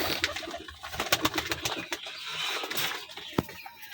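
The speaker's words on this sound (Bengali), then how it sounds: "কবুতরের খাওয়ার এই মুহূর্তটা সবচেয়ে বেশি ভালো লাগে" Pigeons feeding together at close range, with soft cooing mixed with rapid pecking taps and light scuffling, all fairly quiet and without speech.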